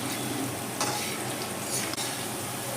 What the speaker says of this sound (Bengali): মুড়ি ঘন্টর যে আলুটা ভাজবেন সেটা কিন্তু একদম হাই ফ্লেমে